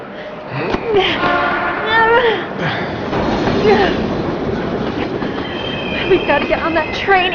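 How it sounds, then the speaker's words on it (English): A train rushing past in the video game Heavy Rain, a loud, close rumble with squealing wheels and clattering, with speech over it throughout. "We've got to get on that train, Ethan."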